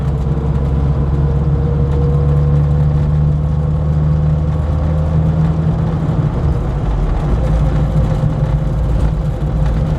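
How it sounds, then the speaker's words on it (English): A Classic Mini with a gear selection fault drives along, its engine a steady loud hum with a low drone throughout, no talking over it. "gradually ease the gears in, and hopefully that will be good."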